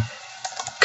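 Typing on a computer keyboard while setting up a Bluetooth connection on Windows 8: a quiet pause, then a handful of light, quick key clicks near the end, with no voice.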